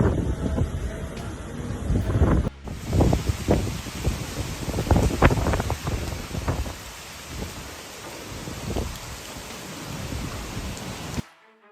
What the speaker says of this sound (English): strong gusts of wind are still coming